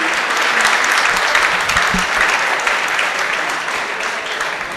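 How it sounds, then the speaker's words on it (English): Audience applause fills a closing ceremony for the 2022 Sci-Tech Innovation Challenge, a dense, loud, sustained wash of many hands clapping that continues steadily throughout. "More round of applause, please, for all of you."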